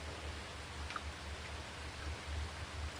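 Rain falls as a soft, even patter with a low rumble beneath, faint and continuous throughout, with no voices.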